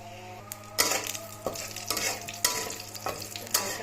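Whole spices, bay leaf, cumin, cinnamon, cardamom and cloves, fry in hot oil for a rui fish head and mung dal curry, a soft sizzle under repeated close scrapes and stirs of a utensil against the pan.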